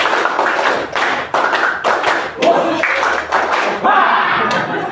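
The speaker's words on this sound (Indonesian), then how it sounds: "terima kasih tepuk tangan untuk kita semuanya" A classroom audience of teachers claps together in a rhythmic burst, fairly loud and close, with brief pauses between rounds of clapping and some voices mixed in.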